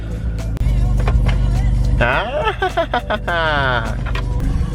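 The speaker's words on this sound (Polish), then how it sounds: "Start BMW na zimno." A cold-started BMW E46 330Ci engine idles with a loud, steady low rumble, with a few brief rev-like swells and overlapping voices chattering nearby.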